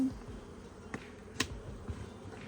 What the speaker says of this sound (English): there's so many bees here